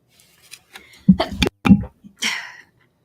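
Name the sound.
sneeze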